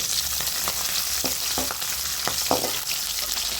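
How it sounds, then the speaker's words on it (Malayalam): Garlic, green chilies and sliced ginger sautéing in a pan for a Kerala country chicken curry: steady loud sizzle with intermittent stirring scrapes close by. "വെളുത്തുള്ളി വഴന്നു വരുമ്പോൾ 3 പച്ചമുളക് നീളത്തിൽ കീറിയതും നീളത്തിൽ അരിഞ്ഞ ഇഞ്ചിയും ചേർത്ത് നന്നായി വഴറ്റാം"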